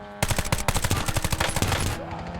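Rapid automatic gunfire from the Call of Duty Black Ops video game rattles out in a dense, loud burst of about two seconds, sharp shots in quick succession.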